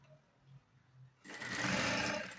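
A sewing machine stitches over a seam: quiet mechanical ticking at first, then a sudden loud, steady whirring run of the motor and needle that fills the last second, close up with no talk.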